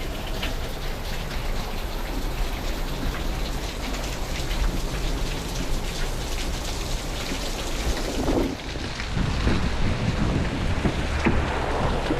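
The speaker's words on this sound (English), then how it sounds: "it is raining cats and dogs right now" Heavy rain pours down steadily in a dense, hissing roar, drumming on surfaces with a low rumble beneath.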